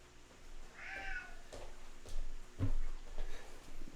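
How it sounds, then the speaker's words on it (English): A house cat meows several times at moderate distance, its calls rising and falling over faint room noise in a kitchen setting. "You might hear some meowing throughout the course of this situation here that we've got."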